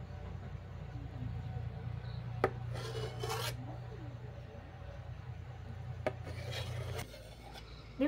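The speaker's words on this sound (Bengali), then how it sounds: "ছুরি দিয়ে আমি পনিরটা কেটে নিচ্ছি।" A knife cuts through a block of paneer on a board, giving soft scraping strokes over a low steady hum, broken by a couple of crisp knocks as the blade meets the board.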